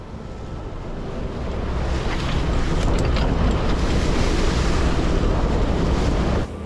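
A Contessa 35 sailboat out on the open North Sea, with waves rushing and strong wind buffeting the microphone in a loud, continuous roar that builds over the first seconds and stays steady.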